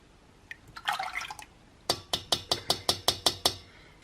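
Milk poured into cream for lemon panna cotta, heard as a brief close liquid splash and gurgle, followed by a run of about nine sharp, evenly spaced clinks or taps.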